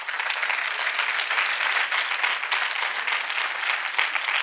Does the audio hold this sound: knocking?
no